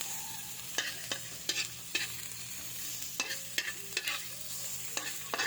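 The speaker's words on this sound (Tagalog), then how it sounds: "nag-isa tayo ng bawang at sibuyas" Garlic and onion sautéing in a pan for Filipino beef steak, a quiet steady sizzle broken by a series of sharp spatula scrapes and clinks against the pan at an uneven pace.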